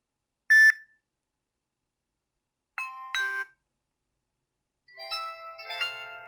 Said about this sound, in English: a few different ringtones that you can go through, notification tones as well